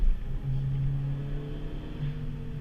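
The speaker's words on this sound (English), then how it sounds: "Once that turbo kicks in" A turbocharged, modified 2018 Honda Civic Si accelerates on a canyon road, its engine a low steady drone heard from inside the car, with a brief tone rising partway through.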